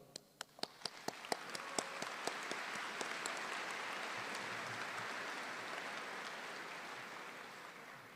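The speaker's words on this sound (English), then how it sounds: "A round of applause for them" Applause at a graduation ceremony for graduate office staff, starting with a few loud, distinct claps and swelling into a steady wash of clapping from a large, somewhat distant crowd.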